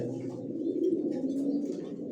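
Racing pigeons coo softly and continuously, a low murmuring warble close by with no other sounds.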